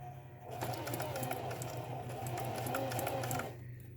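A sewing machine stitches a super curvy line on fabric, its rapid, steady mechanical whir and needle clatter starting abruptly, running continuously for about three seconds, then stopping.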